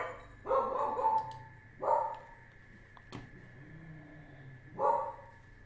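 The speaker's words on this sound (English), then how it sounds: "Dog is going crazy in the background." A dog barks in the background indoors, three loud bursts of barking spread across the stretch with quieter gaps between them, and no talking.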